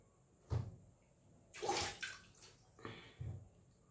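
Water is splashed and dabbed onto a face at a sink, making a few soft, quiet splashes and drips separated by brief pauses, with no talking.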